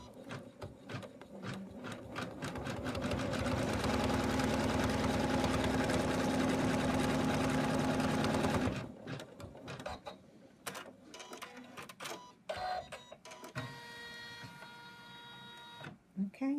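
An embroidery machine stitches a placement line on fabric for an in-the-hoop snowman stocking, a loud steady rapid mechanical whir for several seconds that then stops, leaving scattered handling clicks and knocks.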